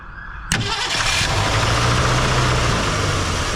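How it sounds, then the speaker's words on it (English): An abandoned 1967 Ford Galaxie 500 engine cranks briefly and then catches, settling into a loud, rough idle that runs steadily close by. "let's get our screwdriver, our key, and hit the starter, and hopefully she'll crank"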